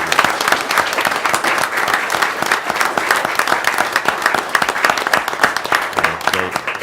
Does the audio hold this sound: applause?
yes